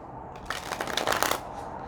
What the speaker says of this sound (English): But we'll give this a real good shuffle.